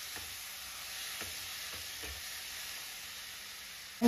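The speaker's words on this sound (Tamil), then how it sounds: "வெங்காயம் நல்லா வதக்கி கொடுங்க" Onions and tomatoes sautéing in a pan, a steady soft sizzle with a few scattered stirring scrapes and taps, close and fairly quiet, with no talking.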